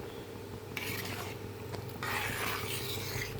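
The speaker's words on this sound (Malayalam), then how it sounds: "നെയ്യ് ഒഴിച്ചിട്ട് ഒരു 2 മിനിറ്റ് ഇങ്ങനെ ഇളക്കി കൊടുക്കുക" Temple-style payasam being stirred in ghee in a pan, soft scraping and rubbing of a spoon against metal in intermittent strokes over a low steady hum.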